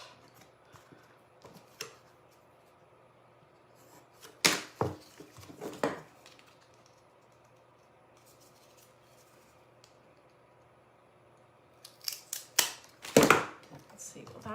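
Thin wood shims are cut in a few separate bursts: brief sharp snips and cracking scrapes clustered together, close and fairly loud, with quiet gaps between them.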